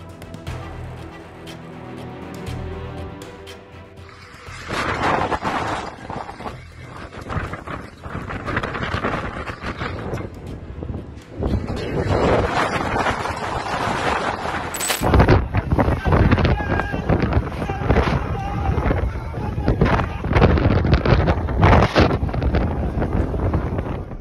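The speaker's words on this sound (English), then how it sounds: "A fierce storm with powerful winds struck Istanbul." Strong storm winds in Istanbul roar and buffet the microphone continuously, gusting louder in the second half with a constant rushing noise.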